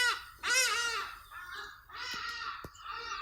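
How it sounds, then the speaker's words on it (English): Crows caw in loud, harsh calls, a long drawn-out caw followed by several shorter ones, clear and fairly close with no voices. "The birds agree."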